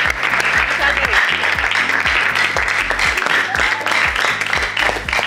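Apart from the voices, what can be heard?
studio audience applauding quiz show contestants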